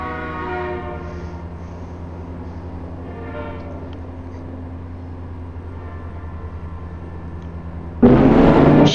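A train horn in American Truck Simulator sounds with sustained harmonic blasts over a steady rumble, holding for several seconds before a much louder burst of noise near the end, with no one talking.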